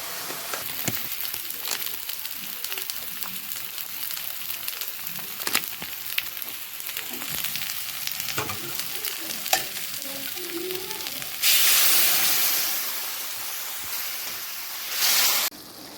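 Spices, salt, turmeric, potato and pointed gourd fry in a pan, a loud continuous sizzle under frequent stirring scrapes, swelling to a sharper hiss toward the end.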